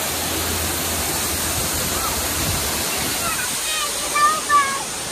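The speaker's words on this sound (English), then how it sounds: "That waterfall." Waterfall at a Congo River mini golf course, a steady broadband rush of falling water filling the scene, with brief voices and faint chirps near the end.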